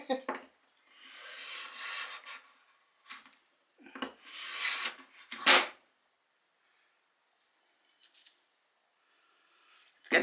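A Japanese hand plane shaving thin curls from a wooden board, several separate rasping strokes of a second or so each, close by and fairly loud, with quiet gaps between passes.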